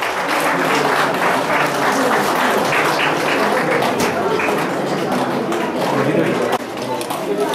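A large audience applauds at a teachers' award ceremony, dense continuous clapping that stays loud for several seconds before easing slightly near the end.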